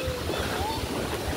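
Water splashing as someone plays in it outdoors, with a rushing, washing wash of sound heard close under people talking.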